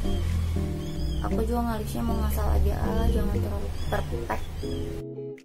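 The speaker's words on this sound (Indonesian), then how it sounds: "Aku baru sadar ada suara anak kucing" A newborn kitten, born a day earlier, mews in high, repeated calls in the background while someone talks over it at close range.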